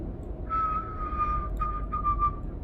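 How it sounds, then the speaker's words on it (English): Wind whistling past a truck cab while driving in Euro Truck Simulator 2, a thin steady tone that wavers and comes in short swells over a low rumble of road and engine noise, with no talk. "can even hear the wind whistling"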